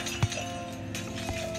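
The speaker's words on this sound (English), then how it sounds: "you're breaking glass with metal balls" Glass shattering under metal balls in the game Smash Hit, a couple of sharp, bright cracks and tinkles over a steady electronic hum, brief and fairly close.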